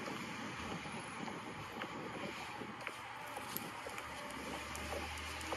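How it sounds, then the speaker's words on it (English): Wind blows steadily outdoors, a constant rushing roar buffeting the microphone with low rumbling gusts, loud and unbroken throughout. "The wind is definitely blowing today."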